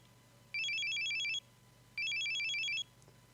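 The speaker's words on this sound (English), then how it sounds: "And then there was another call." A phone rings in the video game Steins;Gate 0 with two bursts of a warbling electronic ring, each just under a second long with a short pause between them. It sounds fairly quiet and plays alone over a faint hum.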